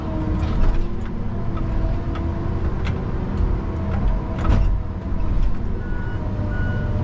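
Tigercat LS855E feller buncher sliding on a slick slope, its heavy engine droning loud and steady with metallic clanks and a repeating tonal beep near the end.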